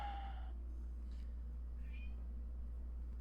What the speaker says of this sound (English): I heard a kitty cat. It's my cat.